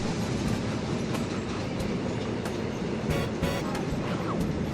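A ghost train in the video game Conduct DELUXE rumbles steadily and loudly throughout, a dense continuous rail roar with faint clickety-clack and occasional brighter squealing bursts.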